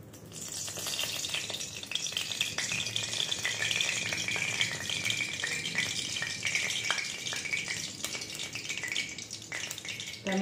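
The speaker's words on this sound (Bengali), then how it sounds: "তো আমি এখানে 1 কাপ তেল দিয়ে দিয়েছি" Mustard oil poured into a kadai heating on a gas stove, with a steady close sizzle and crackle alongside scattered small pops and clinks throughout, no talking.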